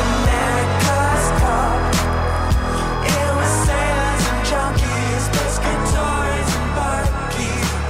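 Excerpt of a new single by a band, playing on its own: a loud, full mix with a steady beat, thick bass, and bright layered instruments running continuously without speech.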